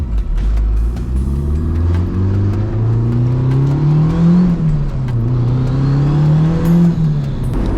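A triple-turbo Honda Civic engine with a check engine light revs repeatedly, loud and close, its pitch rising and falling through several throttle blips in a droning, unbroken roar.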